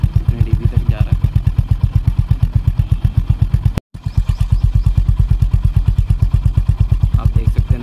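A Honda CB 350 RS or TVS Ronin 225 2023 motorcycle engine idles close by, its exhaust thumping in an even, rapid pulse, briefly cut out for an instant and then resuming, with no voices.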